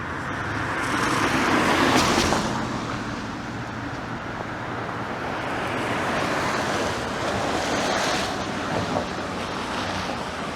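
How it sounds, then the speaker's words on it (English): A Toronto 92 bus passes on a snowy street, a broad whooshing swell of tyres and engine that peaks early then fades into steady traffic and wind noise. "There's another 92 bus."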